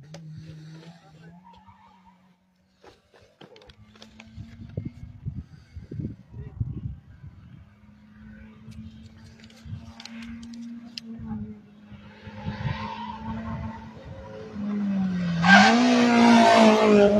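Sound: rally car engines roaring as a competition car approaches and passes

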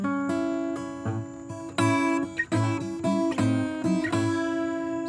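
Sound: guitar playing a song over open A drone

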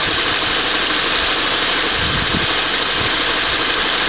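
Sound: car engine running at idle

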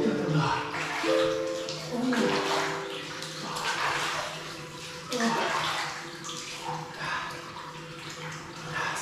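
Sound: splashing in cold water of ice plunge pool

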